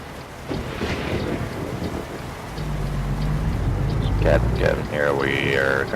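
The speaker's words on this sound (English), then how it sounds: "Well, it's really thunderstorming." A thunderstorm with rain near a truck stop in Kayenta, Arizona: a steady wash of rain and wind noise rises to a deep rumble partway through, while a voice speaks over it toward the end.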